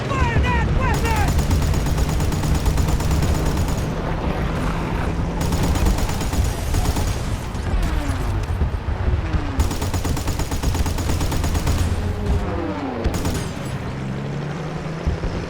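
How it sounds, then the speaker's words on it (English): Dense, continuous gunfire and explosions roar through a Pacific battle in Battlefield 5, loud and relentless over engine and battle noise, with bursts of automatic fire throughout. "Wyatt, fire that weapon."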